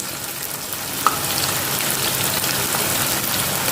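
Onion manchurian frying on a low flame, an even soft crackling sizzle like light rain, with a single small click near the start, close and steady, no talking.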